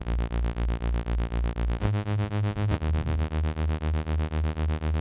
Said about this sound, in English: It's like a super phase bass.